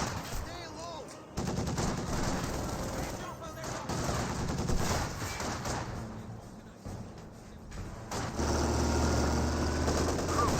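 Heavy DShK machine gun fire rattles in Company of Heroes 2 battle, sustained bursts of rapid shots layered over dense combat noise and engine rumble, with someone commentating over the gunfire.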